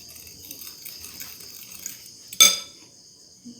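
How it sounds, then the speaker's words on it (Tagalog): A utensil stirs sardines and beaten egg together in a bowl, making quiet scraping and mixing sounds that lead up to one sharp, loud clink of metal against the dish, then a softer tap. "Nilagay ko na yung itlog. Hinalo ko na. So, haluin lang natin."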